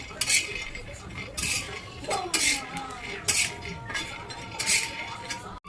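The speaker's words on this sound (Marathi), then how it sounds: "आता मस्त शेंगदाणे भाजून घेतो." Peanuts being stirred as they dry-roast in a flat pan (tava) for a traditional Marathi home vegetable dish, giving repeated scraping and clinking strokes with a brief rattle, close and clear with no talk.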